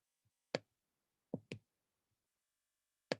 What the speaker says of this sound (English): why does it keep clicking?